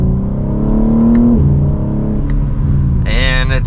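A 2024 BMW M3 Competition sedan accelerates hard in second gear, its engine note climbing steadily in pitch, loud and close, before a quick drop and renewed pull near the end.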